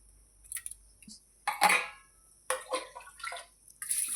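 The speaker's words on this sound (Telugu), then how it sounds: "2 గ్లాసుల వాటర్ అయితే పోసేసుకున్నాం" Two glasses of water pour and splash into a metal pressure cooker in short bursts, with clinks of a vessel between pours, close by.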